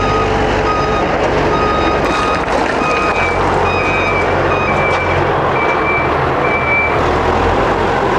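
Reverse-gear backup alarm on a construction machine at a digger and dump truck site, a steady series of high beeps repeating over a loud diesel engine rumble, close by.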